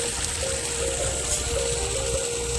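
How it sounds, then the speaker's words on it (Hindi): Water gushes steadily from a 1 hp Falcon full steel-body, 8-stage V4 submersible borewell pump, making a loud, continuous rushing wash with no pauses and no voices. "देखो पानी रो स्पीड देखो केमती स्पीड पूरा स्पीड रही पानी"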